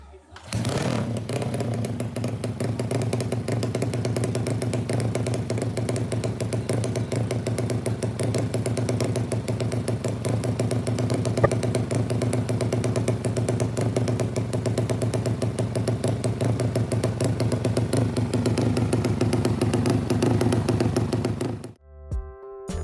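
A carburetted Yamaha Jupiter Z motorcycle engine runs steadily at close range, a continuous mid-pitched idle drone with a fine ticking pulse that holds for about twenty seconds before cutting off.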